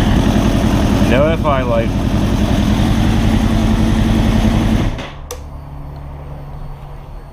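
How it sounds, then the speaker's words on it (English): Suzuki GSX-R1000 K7 sportbike with a Yoshimura exhaust idles steadily at close range, a low rumbling drone that drops to a quieter, softer idle near the end, with someone talking over it early on. "we're gonna just turn the bike on real quick to do a test start"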